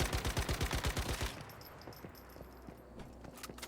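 Rapid sniper gunfire from the video game Once Human: a quick run of about a dozen sharp, loud shots in steady rhythm, then quieter scattered clicks and faint game ambience.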